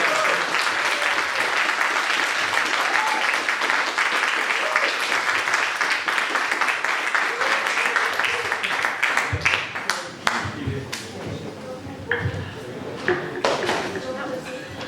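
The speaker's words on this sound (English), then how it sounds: "So everyone, a big round of applause." Audience applause at a New York film festival Q&A, sustained dense clapping that thins toward the end as scattered claps and voices emerge over the crowd.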